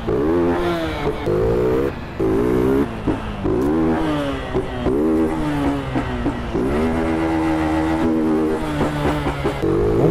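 Engine of a Honda Start 160 motorcycle in GTA San Andreas, revving loudly and continuously with repeated rising and falling pitch as the throttle is worked, heard up close.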